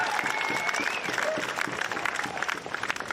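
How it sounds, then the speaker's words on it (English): A crowd at a Bells Beach longboard surfing contest prize-giving applauds surfer Declan Whiten, steady full clapping with a few whistles and some faint chatter mixed in, continuing the whole time. "Let's hear a massive round of applause for Declan Whiten"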